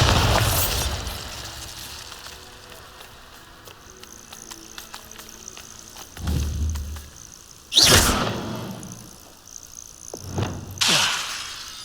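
Bombarda spell blasts in Hogwarts Legacy, several sharp booming explosions with crackling bursts at intervals amid game ambience and faint chirping, moderately loud, no talking.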